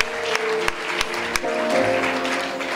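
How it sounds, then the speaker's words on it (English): A church congregation at a Sunday service claps together in a brief, steady patter, with a few sharper slaps standing out. "Go ahead and clap."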